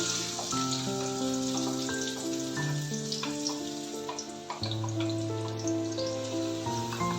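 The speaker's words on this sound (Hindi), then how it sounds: "इसको अच्छे से सौते कर लेंगे।" Finely chopped onions sauté in hot oil and melted ghee, giving a steady, close crackling sizzle with scattered pops and a few clinks of a utensil, no voices.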